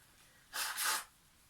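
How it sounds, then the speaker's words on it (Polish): One strong, forceful breath during Kundalini yoga meditation, a hissing exhale in two surges, close to the microphone against near silence. "Oddechy są mocne, intensywne,"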